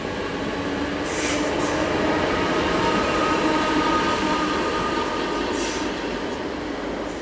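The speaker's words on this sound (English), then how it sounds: "And that's heading off to Liverpool Street." A Class 315 electric train pulls away from platform 6 at Shenfield toward Liverpool Street with a steady rising rumble and hum, wheels rolling along the track, close by and continuous throughout.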